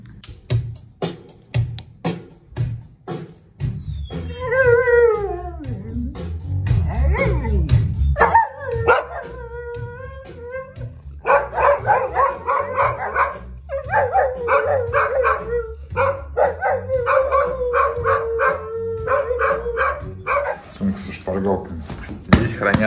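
Dogs howl and bark close by, with drawn-out wavering howls and repeated yips layered over a steady rhythmic drum beat, and people talk in between.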